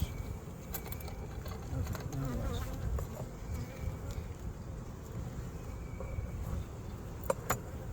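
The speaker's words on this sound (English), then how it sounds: "You had like 2 dozen bees on your hand." Honeybees buzzing steadily around an open backyard hive during an inspection, a dense close hum filling the whole stretch, with faint handling clicks and knocks over it.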